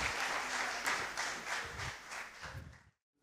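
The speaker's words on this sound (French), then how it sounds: "Merci de vos applaudissements." Applause from a conference audience at a French panel on becoming data-driven: dense, steady clapping that holds for nearly three seconds and then cuts off abruptly, with no voices over it.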